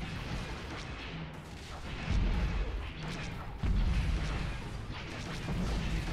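Space battle weapon fire in the strategy game Stellaris, a dense, continuous rumble of booming shots and heavy impacts with sudden surges in intensity, steady and loud throughout.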